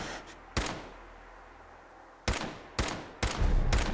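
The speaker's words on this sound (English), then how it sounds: "That's a big explosion." Explosions and gunfire in Fallout 4: four loud, sharp blasts arrive at irregular intervals, with the last one rumbling on, and quieter game ambience between them.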